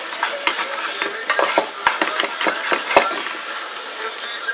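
Beef short ribs sizzle and fry in a pot while being stirred for a wine braise, with a steady close hiss broken by frequent scraping, clacking stirs throughout.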